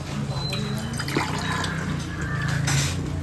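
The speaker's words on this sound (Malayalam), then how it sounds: "കഞ്ഞിവെള്ളമാണ് ഒഴിക്കുമാ മതി" Warm rice water (kanji) is poured over a plate of rice, tapioca, salad, pickle and chicken thoran, making a soft, brief liquid splash and trickle against a light background hum.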